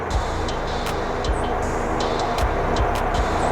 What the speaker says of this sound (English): So it's a little busy over here because of traffic.